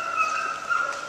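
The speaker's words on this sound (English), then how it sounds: "some poor dog is fighting in there" A dog whimpers and yelps in high, drawn-out cries during a scuffle somewhere in Greece, heard at a moderate distance without any talk.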